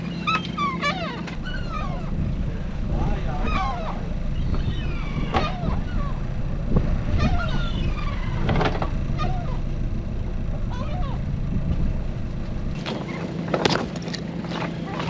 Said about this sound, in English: The seagulls are starving too.